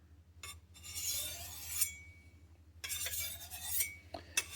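A kitchen knife is drawn across a knife sharpener in two long, gritty, metallic scraping strokes, each lasting over a second, heard fairly quietly and close up with a short gap between them.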